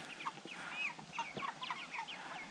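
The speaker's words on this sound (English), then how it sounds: "Yeah, chickens." Chickens cluck and chirp in a coop, a dense, busy run of short calls close by that overlaps without pause, with no talking.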